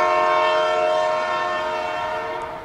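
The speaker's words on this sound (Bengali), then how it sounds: "ট্রেন ছেড়ে দেয়।" A passenger train pulls out on a journey toward Narkanda, its horn a loud, steady multi-tone blare held for nearly three seconds and fading slightly at the end.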